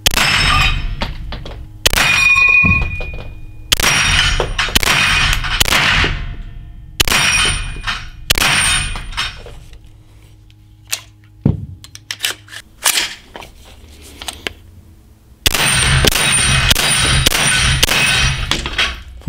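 Bursts of shots from a 9x19 pistol-caliber carbine with skeleton stock, T73 TAC9 Ultra V2, fired at steel gongs, sharp cracks with ringing metallic clangs, several strings of rapid fire separated by pauses, loud and close.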